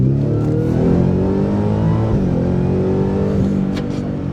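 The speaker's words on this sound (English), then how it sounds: "Listen, it's immediately downshifting. The exhaust gets in the loudest mode" A Ford F-150 Raptor R with its exhaust in Baja mode, the loudest setting, gives a loud, close, continuous engine roar that drops in pitch as it downshifts midway, then keeps droning on.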